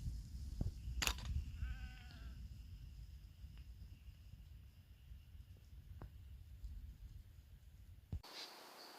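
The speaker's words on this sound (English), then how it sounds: "Surrounded by sheep." Sheep bleat nearby on a farm at dawn, a short run of wavering calls near the start, then a quiet rural hush with insect hum and faint distant bleats.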